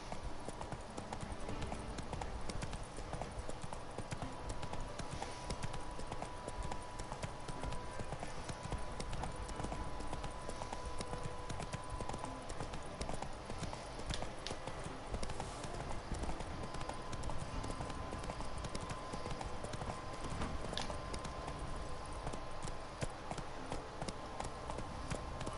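Roach, a horse in The Witcher 3: Blood and Wine, trots along with steady, continuous clip-clop hooves, moderately close, over a constant game ambience bed and no talking.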